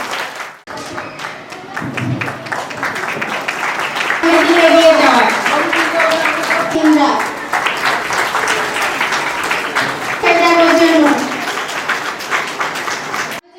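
Applause from an audience at a scholarship award ceremony in the Sundarbans swells and holds for several seconds, loud and continuous, with a voice speaking over it at times.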